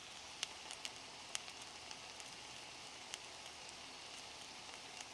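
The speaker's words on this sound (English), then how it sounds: "Then you get that sizzling sound." Shredded cabbage sizzles quietly in a frying pan, a faint, even hiss with scattered tiny pops and crackles, no voices present.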